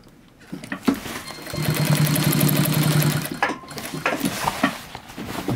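A sewing machine stitches the back pockets of jeans, a rapid mechanical run of about two seconds in the middle, framed by clicks, handling knocks and scattered bumps.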